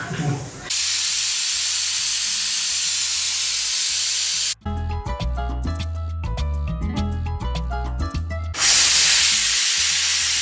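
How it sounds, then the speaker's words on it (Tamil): Steam hisses out of a pressure cooker while ramzan ganji cooks, a loud, steady close-up rush that is broken by a stretch of music and then returns strongly at the end. "ஸோ ஸ்டீம் ரிலீஸ் ஆயிடுச்சு"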